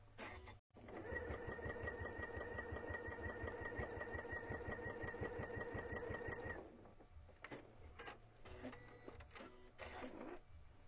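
A sewing machine stitches patchwork pieces together in one steady, fast whirring run of about six seconds, close and clear, followed by lighter clicks and handling of fabric.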